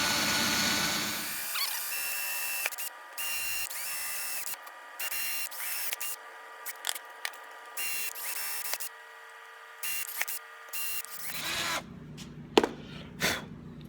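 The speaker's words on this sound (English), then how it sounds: "I'm just letting the weight of the drill pull itself down." A power drill whirs steadily through wood for several seconds, its motor pitch wavering as it bites into a mini T-style guitar kit body, then cuts off, followed by a few light knocks.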